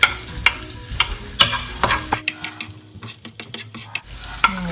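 Garlic frying in a pan for a corned beef and bitter gourd dish, with steady sizzle broken by repeated sharp clinks of a utensil stirring against the pan, close and fairly loud, no voices.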